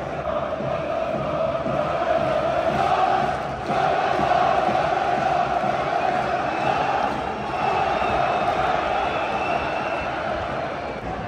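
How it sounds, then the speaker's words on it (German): Football fans of Young Boys Bern and Galatasaray Istanbul fill a stadium with sustained chanting and cheering, a dense continuous roar with rhythmic rising swells throughout. "Die Fans sind auch da, ihr hört's."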